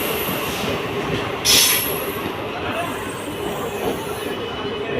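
A Mumbai local train runs past close by, its steady rumble and rolling wheel noise continuous, with a brief sharper hiss or squeal early on.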